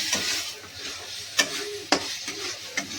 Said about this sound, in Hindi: मैं इसका मसाला भून रही हूँ।